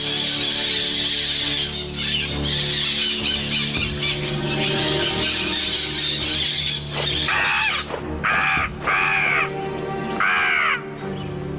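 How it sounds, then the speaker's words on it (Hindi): Several loud crow caws ring out in a dramatic fantasy action film scene, repeated harsh calls standing out over a dense musical score, with distinct bursts toward the end. "क्या तुम लोग उस कौवे को बुला सकते हो?"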